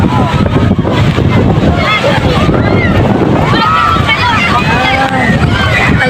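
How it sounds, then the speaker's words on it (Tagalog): High waves at Benmaley beach in Pangasinan, a loud continuous roar of surf and buffeting wind, with a crowd of people chattering and shouting over it. "Ang lingkot, ang taas ng alon."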